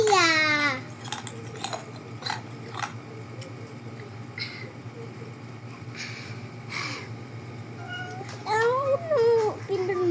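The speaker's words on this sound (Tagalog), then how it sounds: "Cat." A cat gives a clear meow at the start and another drawn-out meow near the end, moderately close, with soft clicks, scattered noises and quiet background voices in between.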